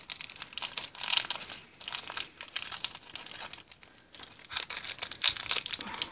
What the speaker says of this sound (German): und die werde ich auch gleich in das andere Tütchen umfüllen